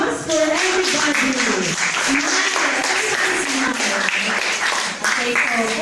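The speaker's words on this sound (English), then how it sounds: "another round of applause for everybody" Sustained applause from an audience at a school debate on banning animal dissection, dense steady clapping filling the whole stretch with a brief dip near the end, with some voices mixed in.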